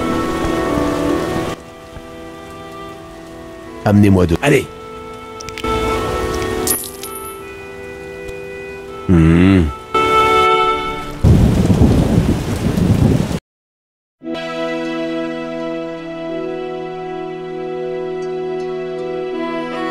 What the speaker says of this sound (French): C'est un sacré orage.